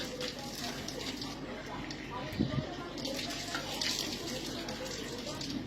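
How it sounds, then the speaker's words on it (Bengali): Dishes being washed under a running tap, a continuous splashing water stream with occasional clatter, while people talk in the background throughout. "বাসন মাজা"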